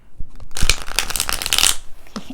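A tarot deck is shuffled by hand close up. A short riffle of rapid crisp card flicks starts after a brief pause and ends with a few soft taps as the cards settle.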